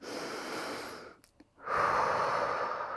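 Slow breathing during a cool-down after a skipping-rope workout, a long airy breath in through the nose, a short pause, then a fuller rush of breath out through the mouth, close and clear.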